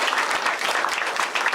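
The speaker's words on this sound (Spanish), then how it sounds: "Así que denles un aplauso, por favor." Church congregation applauding during a Sunday service, a steady, dense wash of clapping throughout the short stretch, fairly loud and close.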